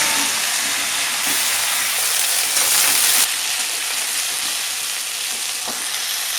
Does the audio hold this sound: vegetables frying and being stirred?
yes